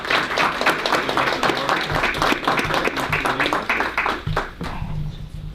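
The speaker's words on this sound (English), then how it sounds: "We'll have a round of applause." Applause from a meeting audience fills the room with steady dense clapping that carries on for several seconds, loud and continuous before tapering slightly at the end.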